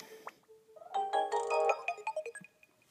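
Game sounds play from the speaker of a red New Nintendo 3DS handheld: a quick series of bright, chiming electronic tones and jingles, fairly loud and close, with no one speaking over them.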